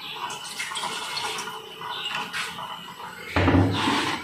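Water is poured into a pot to make tandoori chai, a brief clatter followed by a louder splashing pour near the end.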